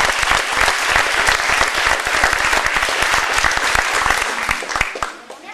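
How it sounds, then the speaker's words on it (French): An audience applauds after a youth theatre show, a dense sustained burst of clapping from many hands that fades slightly at the end, with a voice speaking over it. "Merci pour vos applaudissements"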